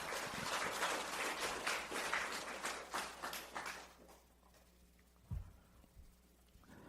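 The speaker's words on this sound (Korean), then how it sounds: "모든 선조들을 위해서 박수 한번 부탁드리겠습니다" An audience at a lecture hall event applauds loudly in a sustained burst of clapping that fades out after about four seconds, followed by a few faint knocks and quiet room noise.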